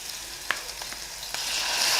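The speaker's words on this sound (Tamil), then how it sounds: "கட் பண்ணி வச்சுருக்கக்கூடிய தக்காளி இதில் போட்டுடலாம்." Chopped tomatoes hit hot oil in a pan for a Tamil tomato curry, giving a steady close sizzle with a few sharp crackles and pops, growing slightly louder toward the end, no voices.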